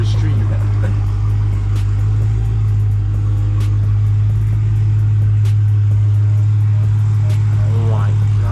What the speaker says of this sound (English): Oh my gosh, dude, this is loud.